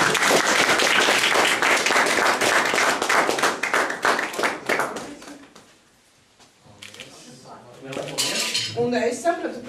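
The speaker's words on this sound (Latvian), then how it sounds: "Tā kā aplausi, aplausi." Applause at an exhibition opening, bright, rapid clapping from a gathered group that fades out midway, followed by a lull, then scattered handling clatter and voices.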